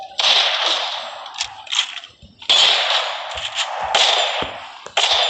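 Sniper rifle shots in a video game, loud blasts each followed by a long ringing echo tail, three reports spaced about two seconds apart with small clanks between.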